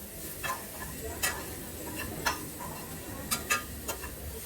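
Bitter gourd sautéing with spices in a pan over a low flame, giving a quiet, steady sizzle broken by sharp spatula scrapes and taps every second or so.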